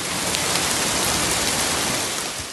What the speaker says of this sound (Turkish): Kent genelinde etkili olan sağanak zaman zaman doluya dönüştü.